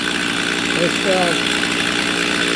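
A Stihl engine that runs rough and stalls sits at idle, giving a steady, even, mid-pitched drone with no change in throttle.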